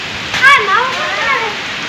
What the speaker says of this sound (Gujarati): જો વરસાદ ચાલુ થઈ ગયો